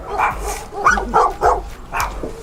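A dog barks nearby, loud and repeated, several sharp barks in a quick uneven series at a rescue scene where a mother dog guarded newborns in a burned-out house.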